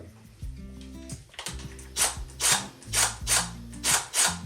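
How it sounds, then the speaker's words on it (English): A power drill loosens screws on a vintage lamp socket, heard as a series of short, close ratcheting whirs that pulse in a fairly regular rhythm, with no talk. "I am going to use my drill and I'm going to just loosen these screws"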